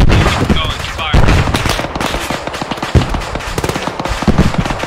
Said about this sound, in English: we're taking fire from something southwest